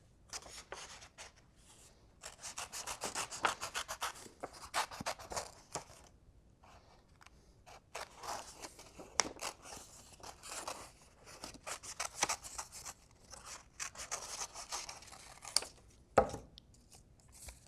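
Scissors snipping paper to cut out a jack-o'-lantern face, rapid bursts of crisp close cuts separated by short pauses and paper rustling, quiet and without talk.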